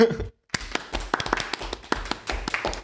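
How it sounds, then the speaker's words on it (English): A few people clap for Kris Jenner during a casual podcast chat, with irregular sharp hand claps following a short pause. The claps are close and uneven, like a small group. "let's clap for Kris Jenner real quick."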